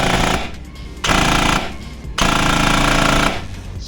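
A 500 FPS airsoft SPR rifle fires on full auto in loud, close bursts of rapid rattling shots, three strings separated by brief pauses, the last burst the longest.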